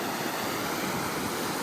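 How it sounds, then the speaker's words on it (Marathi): A waterfall on a river flooded by monsoon rains in Kolhapur, a dense continuous roar of rushing water, loud and steady throughout with no voices. "तो धबधबा आहे आणि या धबधब्यापाशी आता आम्ही आहे"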